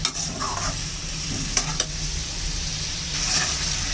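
Dried red chillies, bay leaves, five-spice and ground cumin sizzle in a frying pan with vegetables, a steady close frying hiss broken by a few quick spatula scrapes and taps, with no voices.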